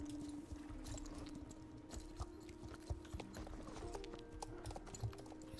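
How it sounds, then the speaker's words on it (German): A horse walks in Star Stable, the online horse-riding game, its soft, steady hoof clip-clops close and fairly quiet over a low ambient drone and faint game sounds. "Reiten wir eigentlich im Schritt."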